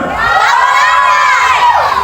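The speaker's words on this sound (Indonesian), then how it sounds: "Penonton" Spectators at a local football cup match in Melonguane cheering loudly, a dense high crowd roar with shouting children, close and continuous throughout.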